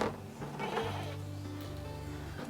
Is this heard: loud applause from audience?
no